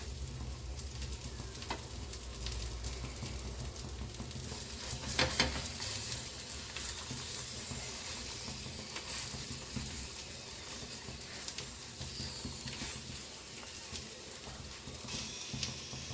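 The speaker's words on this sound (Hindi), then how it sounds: "तो दोनों साइड से हम घी लगाकर पराठे को सेक लेते हैं" A paratha roasts with ghee on a hot pan, giving a low, even sizzle that runs throughout with faint scraping and light handling sounds. No one speaks.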